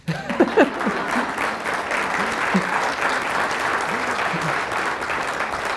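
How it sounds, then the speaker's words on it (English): A chamber of commerce audience claps steadily at a business luncheon, broad continuous applause filling the room for several seconds, with a few voices audible at the start. "You can clap at that."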